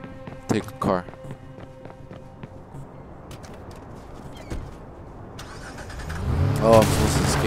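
Car engine turning over and catching in Watch Dogs, a rising mechanical rumble that builds near the end after footsteps and background game sounds, with a voice speaking.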